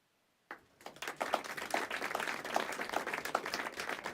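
Applause in a video game starts abruptly after a brief silence and continues steadily, a crowd clapping at moderate loudness with no voices on top.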